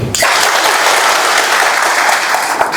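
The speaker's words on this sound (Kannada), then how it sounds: "ಅದಕ್ಕೊಂದು ಜೋರು ಚಪ್ಪಾಳೆ ಕೊಡಿ" An audience at a community leaders' meeting about Valmiki Jayanti in Molakalmuru taluk breaks into loud, dense clapping that begins abruptly and holds steady for a few seconds, close and alone.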